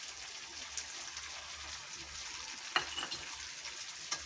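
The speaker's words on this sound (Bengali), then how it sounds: "তেল ছেড়ে গেছে, আমি এবার ধনে আদা জিরে বাটা দিয়ে দেবো।" A paste of coriander, ginger and cumin fries in hot oil for a desi chicken curry, a continuous close sizzle broken by a couple of sharp stirring clinks.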